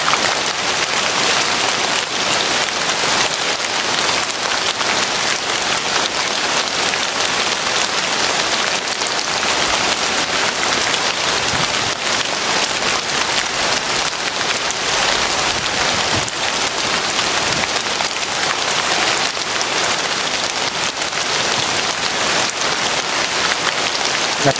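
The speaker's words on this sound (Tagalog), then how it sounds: "it's raining man" Heavy rain pouring down in a sudden downpour, a loud, dense, unbroken hiss of drops drumming on surfaces for the whole stretch, with no voices heard.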